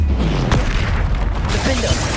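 Spell explosions from Bombarda and Confringo in the Hogwarts Legacy video game, with deep booming blasts and bursts following each other in quick succession, loud and dense throughout.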